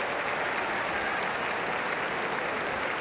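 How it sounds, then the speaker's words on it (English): A stadium crowd at a 1987 rugby league preliminary final claps steadily as an injured player is wheeled off the field, a dense, even wash of applause lasting throughout. "Good round of applause."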